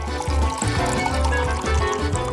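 Sprite poured into a glass over ice, a close gurgling and splashing pour with bubbly fizz and shifting pitch as the glass fills, heard without speech.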